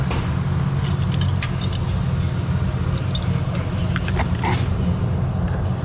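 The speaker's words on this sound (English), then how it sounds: "Now we're going to thread this line back in place." Light metallic clinks and taps from a fuel return line being threaded onto an injector of a 2015 Ford F250 6.7 Powerstroke, scattered over a steady low rumble, close by with no talking.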